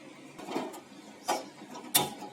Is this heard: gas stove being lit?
yes